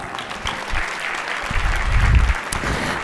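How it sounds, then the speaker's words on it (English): A crowd at a council swearing-in ceremony applauds steadily, a dense wash of clapping that swells slightly toward the end, with no talking over it. "Give them a big round of applause"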